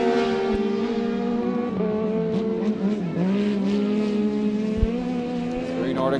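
Rallycross race cars at Mondello Park roar steadily at close range, engine notes rising and falling as they brake over bumps, with a commentator talking over the racing throughout.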